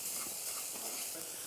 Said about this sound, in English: Little more oil, then with the shallots and garlic. Just fry these for about 1 minute.